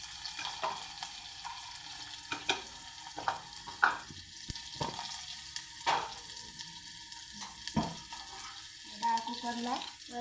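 Chopped tomatoes dropped into a sizzling dal tempering of oil, garlic, curry leaves and green chillies, giving a crackling, spitting sizzle broken by irregular pops and clatters, with a spoon knocking against the pan.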